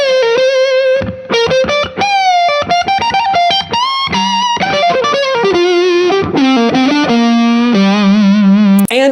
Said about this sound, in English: introducing a new type of overdriven lead guitar tone